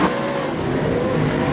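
Speedway race cars roar around the track in close pursuit, a loud, continuous engine drone with steady revving that holds throughout the short stretch, no talk over it.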